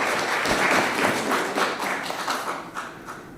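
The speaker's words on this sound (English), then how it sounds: "Thank you for the applause." Audience applause at a school district committee meeting, a crowd clapping loosely in a room with scattered sharp claps that gradually thin out and fade.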